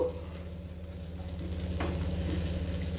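Poli flatbread frying in ghee in a pan, giving a soft, steady sizzle beneath a low constant hum, with one brief scrape partway through.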